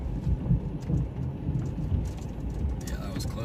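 Thunder from a close lightning strike during a supercell storm near Seymour, Texas, a low rolling rumble under rain and vehicle noise, with people talking faintly.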